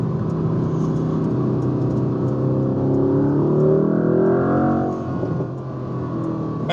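A Mercedes-AMG GT C sports car engine revs up loudly and steadily, its pitch climbing in a smooth acceleration before easing off near the end, heard from inside the car with no talking.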